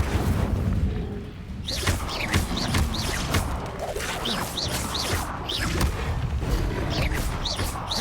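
A spell battle in Hogwarts Legacy, with repeated booming magical blasts, whooshes and crashes, including an Incendio fire spell, loud and dense with a voice briefly heard over the din.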